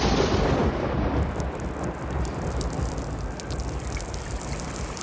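Heavy rain shower pours steadily with a loud broadband hiss, opening with a rumbling thunder-like surge that settles into continuous close rainfall, no talk.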